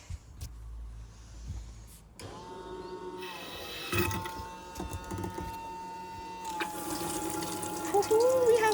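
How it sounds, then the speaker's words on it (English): Water runs from a tap into a tank during holiday preparations, a steady broadband rush that starts around two seconds in and continues alongside clattering and handling noises. "We have water."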